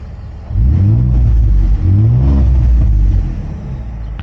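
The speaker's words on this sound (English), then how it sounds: "So this is the exhaust noise from inside the cab." Heard from inside the cab of a 1995 Ford Bronco with an EcoBoost engine, the exhaust gives a deep, loud rumble with two short revs rising and falling, then eases back toward idle.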